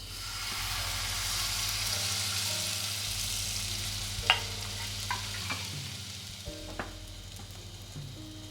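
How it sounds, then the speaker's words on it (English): Takoyaki batter sizzles in a hot oiled frying pan with a steady, close frying hiss. A few faint clicks of utensils sound over it, and no one speaks. "Pour in the takoyaki batter."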